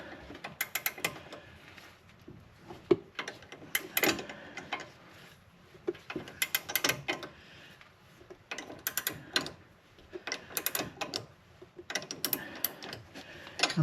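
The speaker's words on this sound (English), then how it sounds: "I'm going to try the locking 2 wrenches together for leverage and see what happens while the ratchet rests against the axle" A ratchet wrench works an Allen bolt on a Subaru Forester steering knuckle, sounding as close, loud bursts of rapid clicking that come in repeated strokes with short pauses between them.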